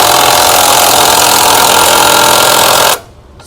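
An Alpha 21V cordless impact wrench tightens a bolt, giving a loud, continuous, rattling hammering buzz at close range that cuts off abruptly near the end, leaving quiet.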